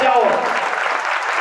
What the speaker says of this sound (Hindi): इनके नाम से तालियां बजाओ